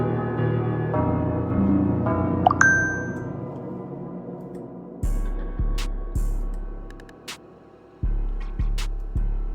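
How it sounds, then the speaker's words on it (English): A bright trap-beat bell one-shot from Kid Chronic's Essentials Volume 2 rings out in a repeating pattern with long sustained tones, played over a dark, low synth pad from Omnisphere and punctuated by deep booming bass hits in the second half. "And the bell with it sounds like this."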